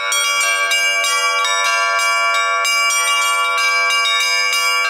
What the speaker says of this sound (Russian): Попробовать себя в качестве звонаря мог любой желающий.